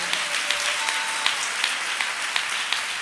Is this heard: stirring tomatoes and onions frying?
no